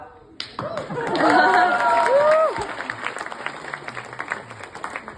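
Audience at a literary festival event with the cast of the Marathi play 'All the Best', a voice at first and then scattered clapping across the crowd with a little laughter.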